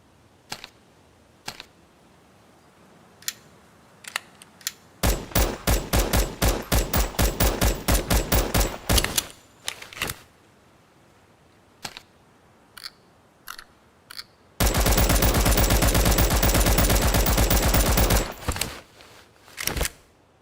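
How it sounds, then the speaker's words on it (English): Video game gunfire plays in two long rapid automatic bursts, sharp and loud, with scattered single shots and metallic clinks of spent cartridge shells falling between them; no voices. "This way I can have the sound of the spent cartridges play right after you fire."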